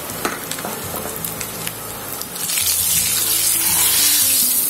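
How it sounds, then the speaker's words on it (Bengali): Small cardamom pods hitting hot oil in a wok for spinach chicken, light clicks and stirring at first, then a loud steady sizzle rising and holding close up. "কড়াইতে তেল গরম করে নিয়েছি, এবার আমি কড়াইতে ফোড়ন দিচ্ছি ছোট এলাচি।"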